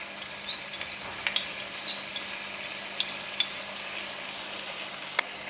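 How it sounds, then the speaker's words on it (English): Fish frying in a pan with ginger, chili, soy and oyster sauce, a steady soft sizzle broken by occasional sharp crackles and pops, heard close with no talking. "give it a stir"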